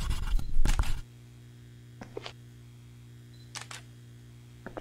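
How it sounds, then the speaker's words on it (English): Camera shutter clicks sound in the horror game Dark Fracture: a loud burst of rapid clicks at the start, then a few sparser, fainter clicks spaced out over a quiet low hum. "Keep hearing a camera shutter clicking away."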